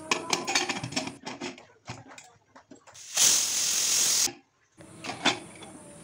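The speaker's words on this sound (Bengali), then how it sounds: "লবণ হলুদ দিয়ে সিটি মেরে দেবো কয়েকটা" A pressure cooker boiling soaked peas with salt and turmeric for mutton-fat ghugni lets out a single loud hissing whistle about a second long, between stretches of clattering and handling noise.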